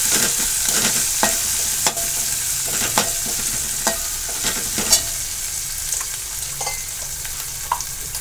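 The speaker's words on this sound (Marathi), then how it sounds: "आपण याच तेलामध्ये थोडीशी कोथिंबीर टाकणार आहोत." Coriander leaves hitting hot oil while tempering dal for a tadka give off a steady, loud sizzle and crackle with frequent small pops, close up, with no voices.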